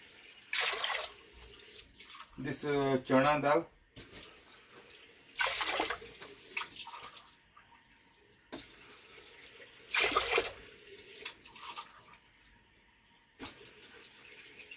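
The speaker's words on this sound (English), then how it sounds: "Add 5 cups of water for" Five cups of water pour into a cooking pot in several short gushing bursts, with a voice speaking briefly between them.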